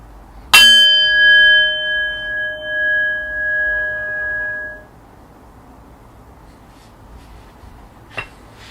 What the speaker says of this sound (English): in just a moment I will ring the bell, ending our first round of meditation.